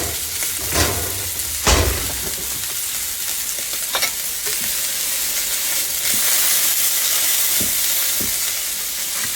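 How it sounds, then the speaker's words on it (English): Hamburger steaks fry in an onion and mushroom gravy, a close, steady sizzle and bubbling hiss broken by a few sharp clanks and scrapes of a utensil against the pan, with no voices. "I'm going to let them cook just a little bit longer in the gravy that I'm making"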